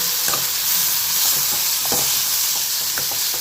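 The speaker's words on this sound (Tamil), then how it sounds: "இப்போ வெங்காயம் நல்லா வதங்கிட்டு" Onions sautéing in a pan for semiya (vermicelli) kichdi, a continuous loud sizzle broken by scraping stir strokes of a spatula, close up with no talk.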